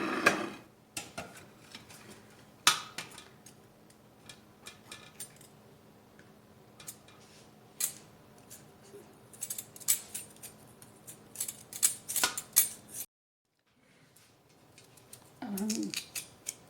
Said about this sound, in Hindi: अब हम आलू काटते हैं।